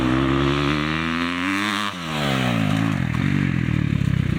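A motocross motorcycle accelerates hard out of a corner in second gear on a short oval track, its loud, close engine rising in pitch, dipping briefly, then climbing again in a rough, raspy roar.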